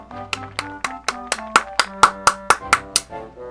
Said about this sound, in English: Please give today's riders a big round of applause